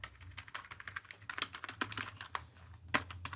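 Someone types on a Marvo K607 gaming keyboard, producing close, crisp clacking keystrokes in an uneven, rapid rhythm with a few louder hits, and no talk.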